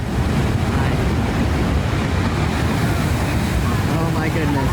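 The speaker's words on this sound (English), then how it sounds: "massive waves from Hurricane Blanca rushed onto the shore" Massive Hurricane Blanca waves surging onto a beach in Mexico, a loud continuous roar of crashing surf mixed with heavy wind buffeting the microphone, steady throughout with no clear breaks.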